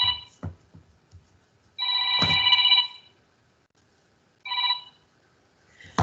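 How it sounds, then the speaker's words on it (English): A phone rings in bursts of electronic tone, a short chirp followed by a long ring and another short ring in an otherwise quiet room, with faint knocks at the start. "my phone's ringing."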